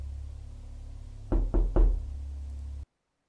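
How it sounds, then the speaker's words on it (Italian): Three sharp knocks land on a door in quick succession against a steady low background hum, then everything cuts to silence. "Ho sentito bussare"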